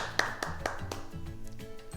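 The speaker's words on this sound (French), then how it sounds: "Et on s'applaudit. Bravo!" A martial arts class clapping for themselves, a handful of sharp irregular claps close by with a voice speaking underneath, fairly quiet overall.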